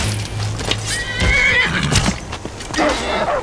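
A horse in Skyrim whinnies loudly, with clip-clop hoofbeats and game effects around it, continuous and close with no talking.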